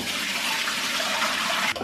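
Soaking water is poured off mutton in a home kitchen, making a steady, loud rush of running water that cuts off abruptly at the end.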